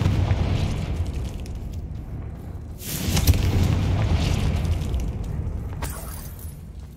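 Confringo blasting-spell explosions in Hogwarts Legacy, two loud booming bursts a few seconds apart with crackling, shattering debris trailing off after each.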